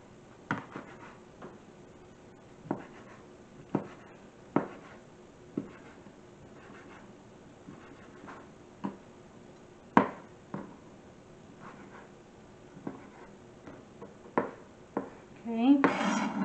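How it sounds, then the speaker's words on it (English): A knife dices cooked chicken into bite-size pieces on a board, producing irregular, distinct taps and knocks spaced a second or so apart over a quiet background, with a brief rustle at the end. "We're going to dice this chicken here that we cooked earlier."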